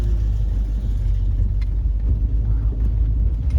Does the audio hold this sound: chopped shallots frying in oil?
no